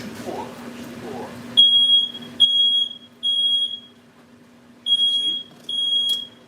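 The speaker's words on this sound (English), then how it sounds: "That's my alarm going off." A kitchen smoke alarm beeps in five sharp, high, evenly spaced bursts, loud and close, with a few soft sounds of someone cooking just before it starts.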